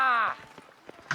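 Horse hooves clip-clop in a brief burst within The Witcher 3: Wild Hunt, a few quick thuds following a loud tonal game sound, close and clear with no talk over them.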